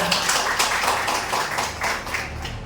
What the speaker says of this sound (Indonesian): Beri tepuk tangan untuk Pak Dona.